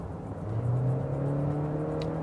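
A 2018 Honda Accord with a 1.5-litre turbo engine, noted for loud noise and an overfilled engine oil level, drones steadily at low revs as the throttle is pressed, with a sustained, slightly rising hum and no talking.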